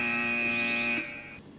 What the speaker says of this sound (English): you've gone on the buzzer